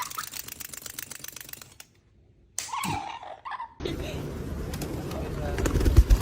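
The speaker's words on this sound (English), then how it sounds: "oh, pigeon tower." Pigeons cooing at a pigeon tower, soft throaty coos broken by a brief silence, then continuing over busy outdoor noise with rustling and clicks.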